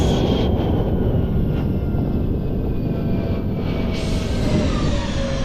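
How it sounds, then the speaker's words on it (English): Loud, steady roar of aircraft engines at an airport, including a Cirrus SR22T and larger planes, a broadband drone filling the whole clip with no talk. "Bigger planes are a little loud"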